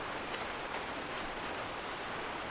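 Heavy rain falling on a cold morning, a steady dense hiss of drops pouring down without a break, close and fairly loud, with no voices.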